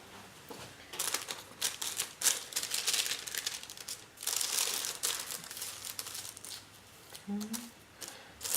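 Scissors snip through paper in a series of quick, irregular crisp cuts and crinkles, close and fairly quiet, with a brief low murmur of a voice.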